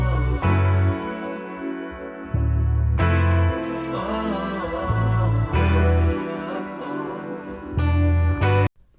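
A found music sample layering piano, a sung vocal and bass guitar, with strong low bass notes pulsing in repeated phrases and a brief gap before the final hit; no talking.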